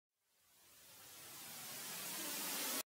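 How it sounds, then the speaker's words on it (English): A white noise uplift riser effect in electronic music production swells steadily from silence, brightening and growing louder for about two and a half seconds before cutting off abruptly. "We just want the white noise. Uplift."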